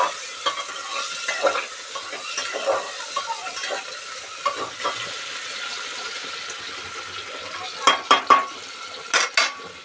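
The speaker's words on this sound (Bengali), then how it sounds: "তারপর দিয়ে দেবো আলু কুচিটা, দিয়ে একটু নেড়ে দেবো।" Chopped potatoes sizzle and fry in a pan for pav bhaji, a steady hiss under scraping spoon strokes that grow louder and quicker near the end.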